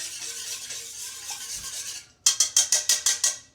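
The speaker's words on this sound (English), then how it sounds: "Give it a good whisk." Eggs are whisked in a bowl for scone batter: first a continuous swishing stir, then a pause, followed by about seven quick, evenly spaced metallic strokes close by, with no voices.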